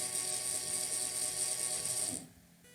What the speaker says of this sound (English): Now we can change the speed of the motor.